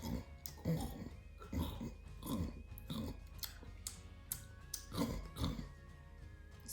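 For an audiobook scene, a dinosaur gives deep rhythmic growls and snorting grunts, a series of rough bursts at a steady pace, fairly faint, with no speech.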